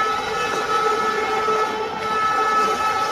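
The 12123 Deccan Queen express on the Mumbai–Pune route runs through Badlapur station without stopping during the monsoon, giving a steady, droning rumble and tonal hum heard from on board.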